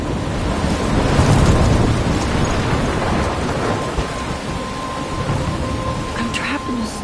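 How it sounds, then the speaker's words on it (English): A thunderstorm in a PS4 video game, with heavy rain hissing steadily and a low rumble of thunder swelling early on, loud and continuous throughout. "I'm trapped in a storm?"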